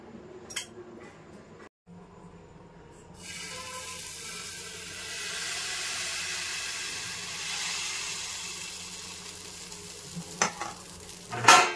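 Oil poured into a hot pan for making dosa starts to sizzle, a steady hissing that swells after a few seconds and holds, with a few clinks of utensils around it.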